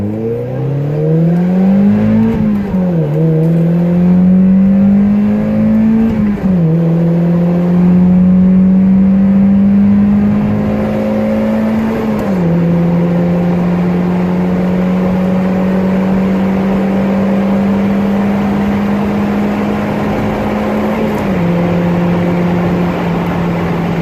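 A Mazda Miata NB roadster with a Sport 3 muffler pulls hard at wide open throttle, its engine note climbing steadily through several gears with brief dips at each shift, heard from inside with the top and windows up.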